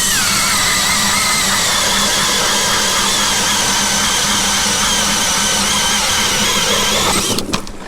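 Jiffy Torch ice auger with a ripper blade drilling through ice, a loud, steady engine drone with a grinding squeal throughout, close up, easing off near the end.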